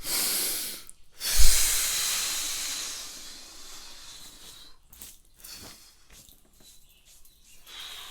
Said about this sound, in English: take a deep full breath out, completely empty your lungs